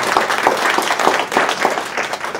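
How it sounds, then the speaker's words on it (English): Applause from guests at a business reception, loud dense clapping that rises and falls in waves, close and continuous without any speech. "I want to give him another round of applause"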